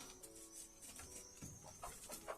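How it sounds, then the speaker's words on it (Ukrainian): Twenty-odd hens murmur and cluck softly behind wire netting in a small home farm coop, faint and close, with scattered short calls over a low background. "Тут десь 20 з лишнім курок. Це вони тут сидять."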